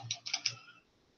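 Quick typing on a computer keyboard, a short close-up run of four or five key clicks over about half a second, then quiet.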